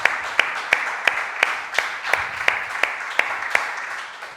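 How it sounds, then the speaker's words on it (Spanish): A church congregation claps in unison during a sermon, about three sharp beats per second over a steady wash of scattered clapping. The sound is loud and evenly spaced throughout. "Denle un aplauso a él."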